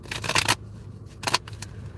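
Tarot cards being shuffled by hand, heard as two quick riffling bursts a moment apart, close and fairly quiet, with soft handling noise between.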